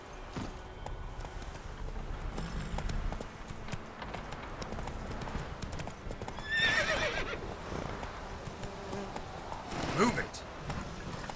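Roach the horse from The Witcher 3 runs in the game, with rhythmic hoofbeats and a couple of whinnies under a voice speaking.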